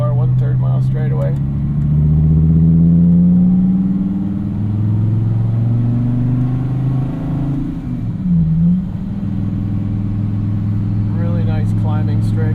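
A 2016 Dodge Viper ACR lapping a racetrack gives a loud, deep engine roar heard from inside. It drops as the car brakes into a tight hairpin, then builds again, while someone talks over it.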